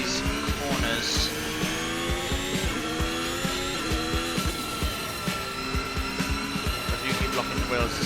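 An F1 car in a racing video game locks its wheels into a corner, tyres squealing over a high, revving engine whine that rises and falls, with someone talking over it.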